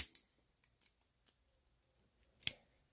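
A pinned lock mechanism operated with a key gives a few sharp, separate clicks against near silence. One crisp click comes early, a couple of faint ticks follow, and a louder snap lands near the end.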